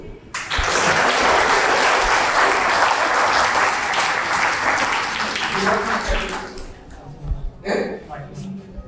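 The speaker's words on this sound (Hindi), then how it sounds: "अपने लिए जोर से ताली बजाइए" A school training audience claps loudly for themselves, a dense, sustained burst of many hands for about six seconds that thins to scattered claps, with voices coming through as it dies away.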